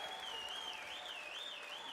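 A crowd at an esports finals watch party applauds and cheers in a steady, dense wash. A whistle-like tone wavers above it, and the applause is sustained and moderately distant throughout the short stretch.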